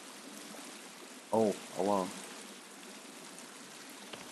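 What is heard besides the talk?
flowing water in a cave, video game The Forest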